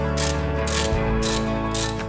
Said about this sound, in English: And now we are torquing the pinch bolt.